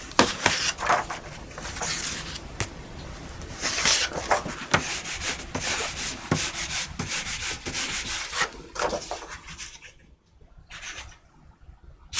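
A baren rubbed over paper on an inked block in traditional Japanese woodblock printing, producing a continuous close scratchy rasping in quick back-and-forth strokes that fades near the end, with no voices.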